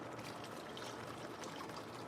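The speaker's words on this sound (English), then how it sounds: "I'm gonna add in the rest of this water right here." Seasoned water poured into a pan for brown gravy with fried steak, a steady, soft trickle and splash running evenly throughout.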